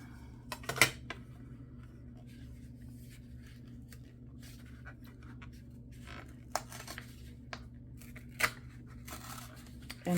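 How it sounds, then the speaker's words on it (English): Scissors snip through paper in a notebook with a few short, sharp cuts, separated by quiet stretches over a steady low hum in a room. "let's cut it off. Scissors."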